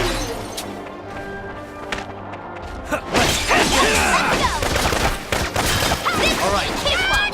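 Gunfire volley in the Valkyria Revolution video game erupts midway, a dense loud barrage of shots and crashing impacts mixed with game music and voices speaking over it.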